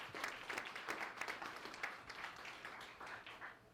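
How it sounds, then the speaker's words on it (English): An audience claps steadily for the Evans Initiative, a continuous faint patter of many hands with no talking over it. "Let's just clap for Evans Initiative."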